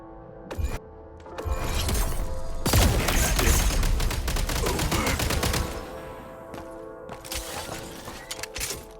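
Video game gunfire in a snowy battle level: a rapid crackling volley of shots with shattering impacts, loudest mid-clip, then a few scattered shots and faint tones.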